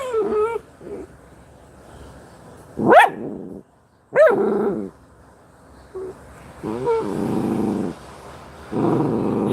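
A dog barks and growls in several loud bursts with whimpering tones between them, close by, and a person's voice is also heard.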